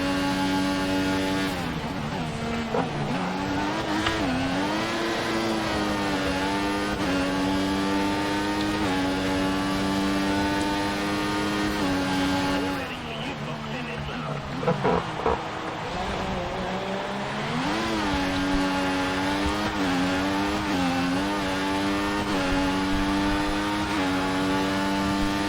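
Race car engine in F1 2014 idling and revving during a pit stop, a loud continuous harmonic whine that rises and falls in pitch, briefly dipping midway before resuming, with no talk over it.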